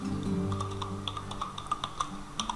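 Typing on a computer keyboard into a search bar, a quick irregular patter of light key clicks, fairly close and quiet, with a faint hum beneath.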